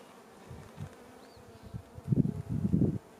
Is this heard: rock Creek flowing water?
no